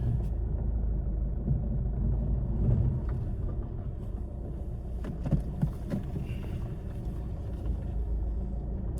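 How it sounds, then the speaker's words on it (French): A car on a road test drive heard from inside the cabin, a steady low rumble of engine and tyres with faint creaks and soft knocks from the suspension over several seconds, no talking. "toujours faire un petit essai routier, ça fait toujours plaisir"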